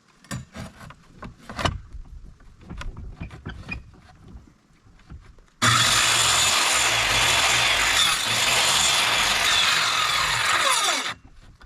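A saw cuts a wooden board for board-and-batten siding on a cabin. Scattered knocks and handling sounds come first, then a loud, continuous rasp of cutting lasts about six seconds before stopping abruptly.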